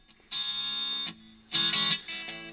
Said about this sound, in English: the distortion is in the EQ circuitry and also in the summing network